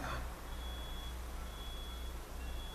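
Steady electronic beeping from a vehicle reversing alarm, thin tone pulses repeating over a continuous low rumble of background noise, moderately distant and fairly faint.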